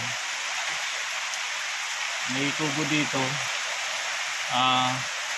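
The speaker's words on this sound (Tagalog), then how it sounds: "Lakas pa ng ulan." Heavy rain pours steadily over a mountain trail in the hills of Mauban, Quezon, a dense close hiss throughout, with brief speech from a man breaking in twice.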